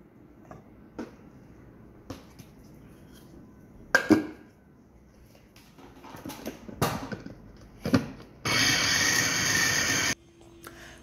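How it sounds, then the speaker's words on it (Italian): A food processor grinds chicken breast in a home kitchen, with scattered knocks and handling clatter before one loud continuous whirring burst of about two seconds, close and unaccompanied by talk. "Quindi inseriamo il petto di pollo nel nostro trita"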